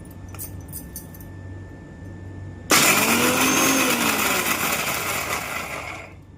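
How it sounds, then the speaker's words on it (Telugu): After a quiet start, a mixer grinder abruptly starts grinding cooled roasted peanuts in its jar, becoming a loud, continuous whirring roar with a rising motor whine that holds for several seconds before beginning to fade. "ఇప్పుడు మనం మిక్సీ వేసుకుందాం"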